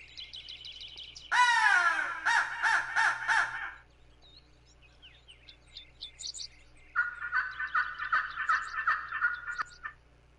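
Crows caw near the edge of the woods. A loud burst of harsh caws comes first, then quieter distant calls, then another run of caws. A turkey gobble may be mixed in.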